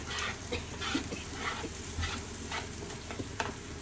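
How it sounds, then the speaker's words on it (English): Roughly chopped broccoli sizzles in a non-stick pan as it is stirred, giving a close, steady frying hiss with scattered scraping taps from the stirring and no talking. "I'm going to shove in all this roughly chopped broccoli"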